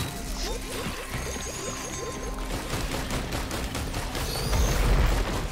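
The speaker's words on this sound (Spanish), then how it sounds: "Se han empezado a encadenar las explosiones." Chained explosions in the video game Risk of Rain 2 crackle and boom in rapid overlapping bursts over steady game music and effects, with a heavier blast rolling in near the end.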